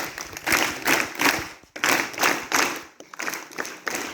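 Students at a government inter college Hindi Day event give rhythmic group claps for a girl's song: about seven distinct bursts of unison clapping, each swelling and stopping with short gaps between, close and fairly loud.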